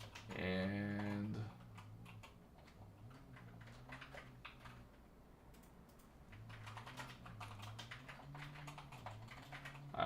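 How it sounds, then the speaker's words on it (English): Quick bursts of clicking keystrokes on a computer keyboard, typed in uneven clusters beneath a voice that speaks at the start and again later, the taps close and crisp but fairly quiet. "I am just typing it in here."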